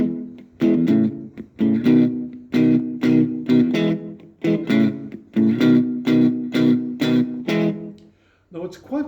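Distorted electric guitar plays a chord pattern as rhythmic, choppy strummed bursts with short palm-muted gaps, steady and close for about nine seconds with no talk.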